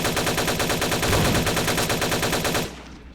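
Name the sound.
gunfire in video game Vampire the Masquerade Bloodlines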